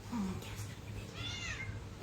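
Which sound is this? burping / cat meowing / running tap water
cat meowing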